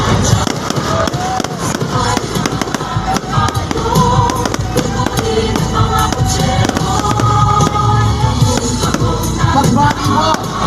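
Fireworks bursting at a salubong festival in Plaridel: a loud, dense and continuous barrage of cracks and bangs, close and overlapping, with no pause for the whole stretch.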